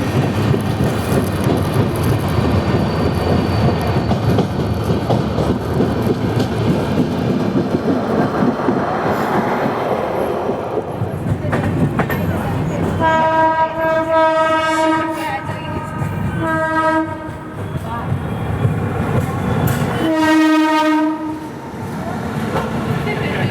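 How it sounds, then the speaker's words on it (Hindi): A double stack container freight train passes beside a moving passenger train, a loud continuous rumble and rushing roar with repeated blasts of a train horn in the second half. "तो आप यहाँ पे देखिए double stack container freight train"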